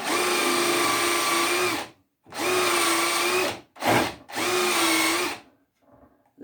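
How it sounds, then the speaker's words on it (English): A power drill spins a 5/8 inch Forstner bit into wood while shaping a rocking chair part, running in three long whining bursts separated by brief pauses and a quick blip, loud and close. "I just drilled down in the very middle of that"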